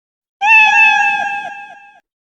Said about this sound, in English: When green flag clicked, play sound meow